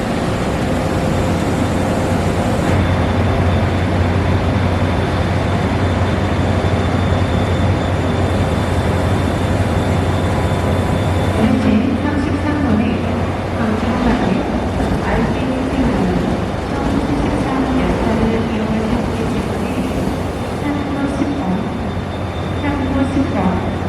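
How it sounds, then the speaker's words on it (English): A long KTX high-speed train rolls past a station platform in Korea, a loud, steady rumble with hiss that later carries a warbling, rising-and-falling tone as it moves through. "KTX, this is their high-speed rail, and it's going back towards Seoul"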